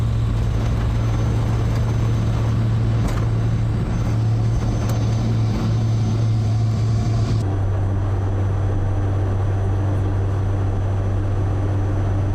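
Airbus A400M military transport aircraft in flight, a loud, steady low engine drone and cabin roar filling the whole span, its tone shifting slightly partway through, with no talk over it.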